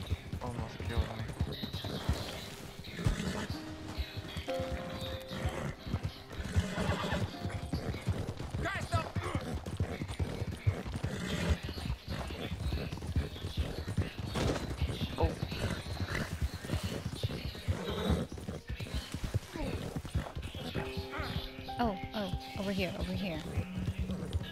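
Horse hooves clip-clop in a rapid gallop in Red Dead Redemption 2, with occasional neighs under steady talking and layered effects.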